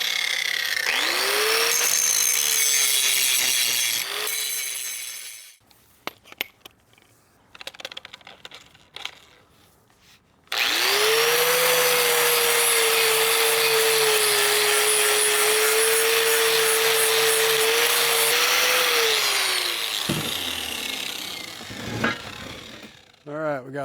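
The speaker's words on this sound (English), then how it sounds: "All right, let's start grinding." An angle grinder cuts brackets off the axle tubes of an 8.8 rear end for an S10 swap, a loud, steady, high whine in two long passes with a noisy gap of tool handling between them.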